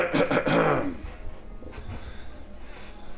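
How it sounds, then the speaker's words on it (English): A man clears his throat once up close, a short rough burst, followed by quiet room noise. "you hear this man seated behind you clear his throat"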